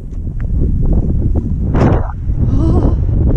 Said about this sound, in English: Oh, a bit windy.